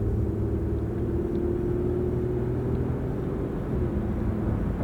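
An old Lexus is driven, its engine and road noise forming a steady low rumble from inside the cabin, with a slight change in engine tone as it shifts from second to third gear, and no talk.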